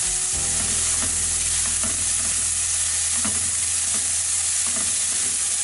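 Dry red chilies, ginger, green chili and cumin seeds sizzle in hot oil in a pan for palak kadhi, a close, steady frying hiss with occasional spoon scrapes and soft pops.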